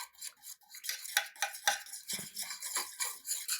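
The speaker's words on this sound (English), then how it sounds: "I'm going to whisk this together just to get this combined" A small whisk beats homemade keto ketchup ingredients in a bowl, making quick rhythmic scraping and clicking strokes, close and clear with brief pauses between bursts.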